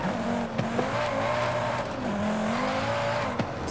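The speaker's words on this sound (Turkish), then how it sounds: "Güzel gürlüyor araba." Volvo C30 Polestar, a front-wheel-drive car tuned to 600 horsepower, roaring in the racing game Forza Horizon 5, with a steady loud engine note rising and falling through gear changes and no talk over it.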